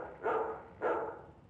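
Two loud, close barks from a rabid dog in a film shown within the video game Control, spaced under a second apart.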